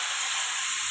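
Chicken pieces hitting a hot pan with onions while cooking chicken steak with cream, giving a steady, loud, close sizzling hiss that holds evenly without pause.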